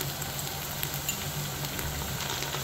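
Onions frying in a pan with handfuls of coriander and mint leaves added, giving a steady, close sizzle with soft stirring scrapes throughout.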